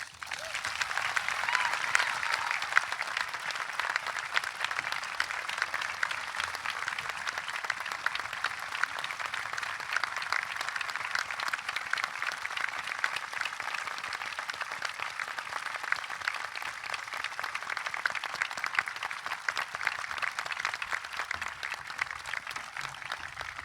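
A college commencement audience applauds a graduate and her family with a long, even wash of clapping that holds steady at moderate loudness throughout, with no voices over it.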